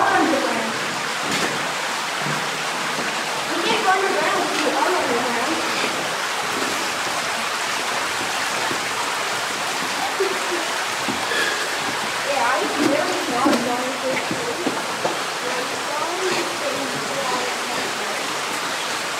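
Rushing floodwater inside Little Red River Cave during a flash flood, a loud, continuous roaring wash of water heard up close throughout, with people briefly talking over it.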